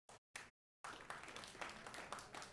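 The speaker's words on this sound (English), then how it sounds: "If you believe we can do that, clap your hands." An audience claps at a mayoral campaign speech. Two brief isolated claps come first, then after a pause a sustained round of steady applause from a modest crowd, heard somewhat distant and fairly faint.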